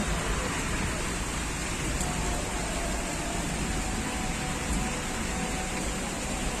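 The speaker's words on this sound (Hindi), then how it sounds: "बारिश शुरू हो गई है और बहुत तेज हो रही है" Dense, steady heavy rain pours down in Karachi, Pakistan, with a constant broadband hiss and no let-up.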